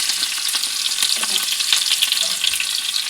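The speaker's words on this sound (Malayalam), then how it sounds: "കടുക് ഇട്ടിട്ട് പൊട്ടട്ടെ." Mustard seeds spluttering in hot oil while tempering a mango curry, a continuous close crackle of rapid pops and sizzle that stays steady throughout with no talk.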